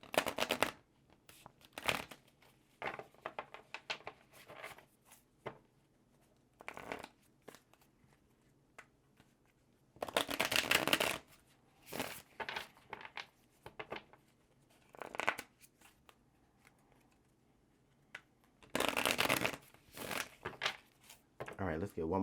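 Tarot cards are shuffled in several quick bursts of riffling, with quiet handling and soft speech in the gaps between them.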